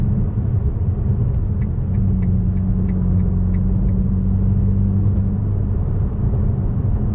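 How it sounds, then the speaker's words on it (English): A Ferrari Roma with its V8 engine idles in a deep, steady rumble, a continuous low drone held at close range with a few faint higher ticks above it and no one talking. "The car certainly makes the right noises. With a V8 power plant underneath the hood"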